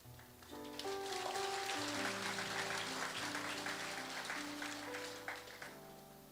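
A church congregation claps during a sermon, a steady wash of applause building, holding for several seconds and tapering off, heard at a distance over a faint sustained musical tone.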